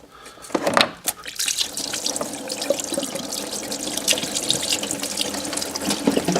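Coolant splashes and pours from a Ford Focus thermostat housing as it comes off, a steady close liquid stream into a bucket with drips and splatters, after a couple of sharp metallic knocks.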